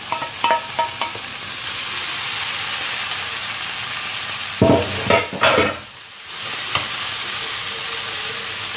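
Minced meat balls frying in a pan with a steady sizzle. Louder bursts of stirring and clattering come midway, and no one speaks.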